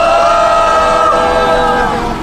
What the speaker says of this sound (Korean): 우리 지민이 아버님, 오일성님께 다시 한 번 더 큰 박수로 격려해 주시기 바랍니다.